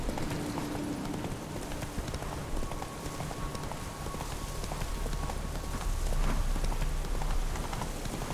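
Roach, a horse in The Witcher 3, gallops with steady clip-clopping hooves that run continuously under a wash of ambient game noise, growing slightly louder toward the end.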